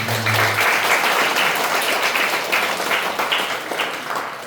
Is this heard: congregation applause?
yes